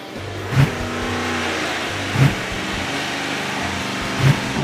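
An engine revs hard on a dyno while driving an alternator and an Aeromotive A1000 fuel pump, a loud sustained roar with three sharp peaks at regular intervals.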